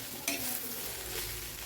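Cluster beans (kothavarangai) stir-fry in a pan for poriyal, giving a constant close sizzle with a quick scrape of stirring near the start.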